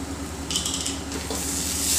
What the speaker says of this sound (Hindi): इन सभी चीज़ों को मैं मसाला के साथ 1 मिनट के आसपास भूनकर रेडी कर लूँगी।